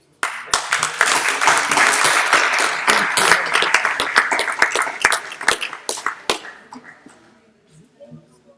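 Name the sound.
audience applause at a convention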